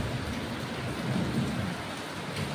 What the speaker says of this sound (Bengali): এখনো দেখো বৃষ্টি হচ্ছে।